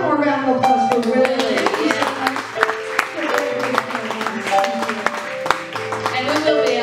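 Clapping from a small audience at a live music show in a chicken bar rings out in scattered, uneven claps while a sustained guitar or amplified chord tone plays over them.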